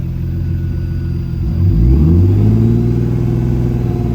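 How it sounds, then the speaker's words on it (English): A turbocharged BMW E30 with an M50 engine idles with a loud, close, steady low rumble, rising briefly in a slight swell before settling back to a smooth burble. "It's just sitting at 700 RPM."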